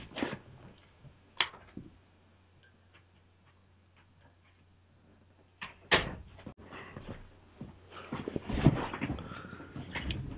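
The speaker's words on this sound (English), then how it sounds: "1 second, I just have to open the door for him." A door is opened to let a dog out, with clicks and knocks of the latch and the door, a dog's paws and whimpers, and a few louder thumps and rattles near the end. There is no talk.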